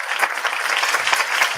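Comedy club audience clapping steadily across the whole stretch, a dense, close wash of hands that cuts off abruptly at the end.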